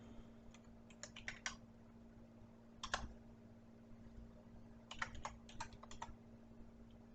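Quick bursts of computer keyboard typing as a command is entered, clustered clicks with pauses between groups, close and fairly quiet over a faint steady hum.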